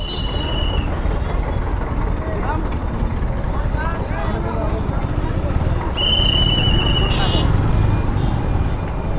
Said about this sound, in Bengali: এরকম জ্যামের মধ্যে নয়েজ কেমন আসে সেটাই আপনাদেরকে দেখাচ্ছি